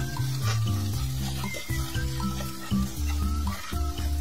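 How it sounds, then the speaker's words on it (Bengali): Chili powder, salt and cumin frying in oil for aloo paratha filling, a loud continuous sizzle with stirring scrapes throughout. "সবগুলো দিয়ে ভালো করে ফ্রাই করে নেব কিছুক্ষণ।"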